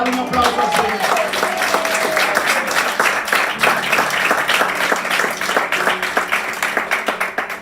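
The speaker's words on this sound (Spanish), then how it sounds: "dale un aplauso al Señor" A church congregation claps during a pastor's sermon, a steady rhythmic wave of hand claps with a pulsing beat, fairly loud and continuous throughout, with voices mixed in.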